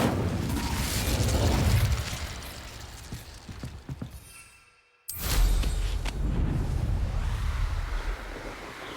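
An Incendio fire spell is cast in Hogwarts Legacy, a loud rushing, booming burst of flame that swells, fades to near silence for a moment, then erupts again into a sustained roar.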